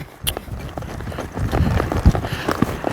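A horse loping in a training session, its hooves clip-clopping in a quick, steady rhythm that grows heavier and closer toward the end, heard without speech.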